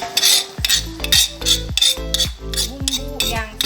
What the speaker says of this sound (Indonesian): Kita aduk supaya meresap.